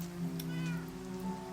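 Minecraft cats meow in a short, clear burst with a rising-falling pitch, set over a steady low hum and soft rain-like patter in the blocky game world.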